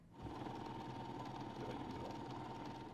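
A sewing machine stitching summer dress fabric runs in a steady, fast mechanical whir for a few seconds, close and even, with no one talking over it.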